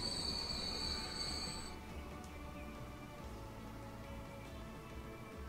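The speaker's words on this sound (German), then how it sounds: "Die 412 Klasse 9000 ist auch da." A Class 412 train in the video game Transport Fever runs past with a loud steady rolling rumble and high metallic wheel squeal that fades after the first couple of seconds, with no talking.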